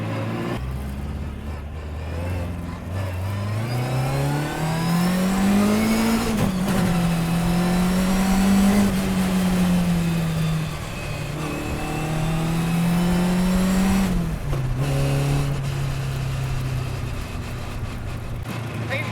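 A 1957 Lotus 7 racing car engine revs up and holds at a steady high pitch, with gear-change dips between the pulls, loud and continuous throughout.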